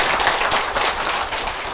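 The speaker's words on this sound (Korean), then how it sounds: "박수 부탁드리겠습니다." An audience at a Buddhist academic seminar applauds an introduced speaker, a loud, dense burst of clapping close by, brief and unbroken with no talk.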